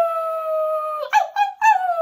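A voice imitates a dog's howl during a children's picture-book read-aloud: one long, steady sustained tone, then wavering, yelping rises and falls, heard close and alone.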